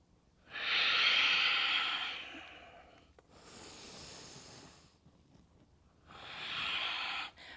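Three long, soft, airy breaths drawn in a slow rhythm during a vinyasa yoga flow with low lunges and spinal twists, each lasting a couple of seconds, close and fairly quiet, with hushed pauses between them and no talking.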